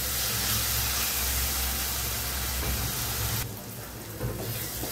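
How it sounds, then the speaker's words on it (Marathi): Tomatoes with added salt cook in a pan, giving a steady, fairly loud hiss and sizzle that dips slightly near the end. "चवीनुसार मीठ टाकायचं. चांगलं असं शिजवून घ्यायचं आहे टमाटा पण."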